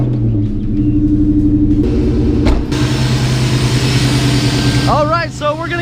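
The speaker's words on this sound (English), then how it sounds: "Let's go ahead and start her up." A supercharged car engine cranks and catches, then settles into a steady idle with a deep low rumble and a higher whine; a voice briefly speaks over it near the end.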